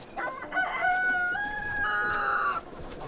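Rooster crowing close by among chickens, one drawn-out cock-a-doodle-doo with a few soft clucks before it, fairly loud and clear.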